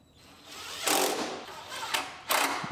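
Bolt being run in by a power tool to hold a car fender in place on an RDX build, heard as two or three short loud mechanical bursts over a quiet workshop background.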